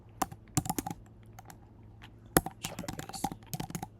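Clicky keystrokes on a computer keyboard come in short bursts with pauses between, close and fairly crisp, like someone typing a name while designing in Canva.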